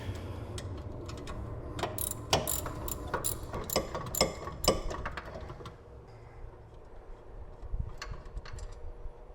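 Ratchet wrench working the rear brake caliper bracket bolts on a 2004–2008 Acura TL, a rapid series of sharp clicking strokes close up, pausing briefly before a few more clicks.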